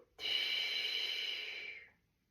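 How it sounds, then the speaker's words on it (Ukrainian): During a towel exercise routine for the pelvic floor, a single long, close breath hisses out steadily for nearly two seconds, then fades into silence. "І ще раз вдих. І видих."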